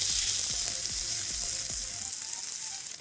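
Chopped garlic, ginger, green chillies and red chillies sizzle and crackle steadily in hot oil in a pan, a close continuous frying hiss with a few stirring clicks and no talk.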